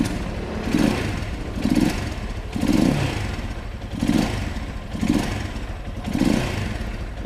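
A Skygo motorcycle engine idles and is revved repeatedly in an indoor shop, giving about seven evenly spaced throttle blips over a steady close running sound.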